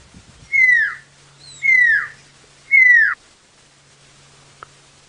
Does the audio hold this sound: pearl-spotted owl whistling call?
yes